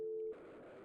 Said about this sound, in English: I get the secondary dial tone.